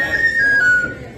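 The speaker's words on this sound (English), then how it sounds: "the little story behind that is that's Shaun's whistle to tell us it's time to drink up and move on" A whistle is blown inside a pub to signal drinking up, one long, clear, steady tone that holds and fades slightly against quiet room noise.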